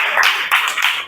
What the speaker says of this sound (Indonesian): Reni beri aplaus dulu.